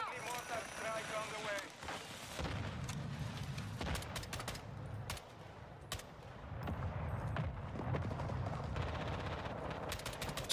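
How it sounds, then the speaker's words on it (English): A friendly mortar strike in Call of Duty Warzone lands as a run of heavy, rumbling explosions mixed with rapid gunfire. The booms build and repeat over about ten seconds against a constant battlefield din. "Friendly mortar strike on the way."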